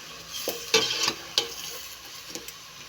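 Beef biryani with chili powder being stirred in a pot, with a handful of sharp scraping and clinking strokes of the spoon over a soft sizzle, close and brief.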